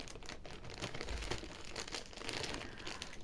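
Soft, steady crinkling of a plastic packet being handled close by, with irregular rustles and no speech.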